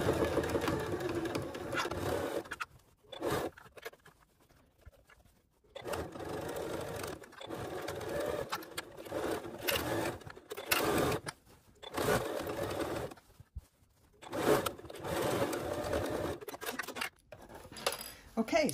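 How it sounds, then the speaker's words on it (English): A sewing machine stitches around the brim of a fabric sun hat with a 3/8 inch seam allowance, running in several steady bursts separated by short pauses. "I'm going to use a 3/8 inch seam allowance here, and I'm just going to stitch all the way around."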